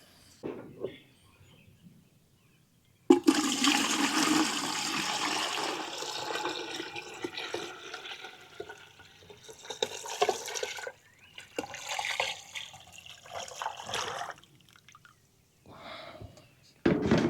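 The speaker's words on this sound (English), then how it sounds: "I'm going to pour this on the top, give it some time to filter through the 3 carbon filters." Water is poured into the top of a countertop water filter with three carbon filters: a long, close splashing stream with a few breaks, then shorter bursts and drips, after a quiet start.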